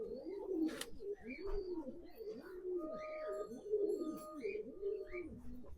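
A Pulsar-breed pigeon coos in a steady, repeating run of rolling throaty phrases, close by and moderately quiet, with faint chirps in the background.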